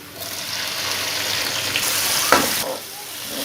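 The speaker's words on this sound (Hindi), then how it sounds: "अब हम इसमें प्याज डालेंगे।" Onions added to hot ghee set off a loud, dense sizzle that builds and holds, with a brief stirring clatter near the end before the frying settles to a quieter crackle.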